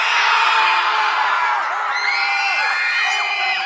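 A youth conference team cheers and whoops when called, with a loud crowd of young voices yelling and hollering together, rising pitched whoops sliding through the noisy burst.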